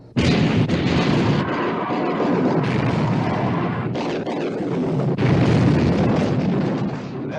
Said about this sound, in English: All turrets ready to open fire, sir. Open fire!